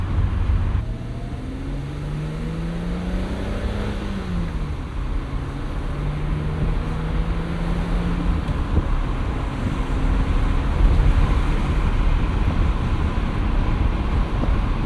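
A 1987 BMW 325is E30 with a five-speed manual cruises with the windows down, its engine droning steadily under heavy wind and road rush, pitch rising and falling with gear changes.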